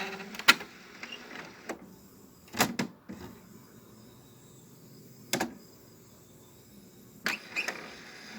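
An HP Deskjet 4535 inkjet printer aligns itself after a cartridge replacement, quiet whirring broken by several sharp mechanical clacks and carriage thumps at uneven intervals.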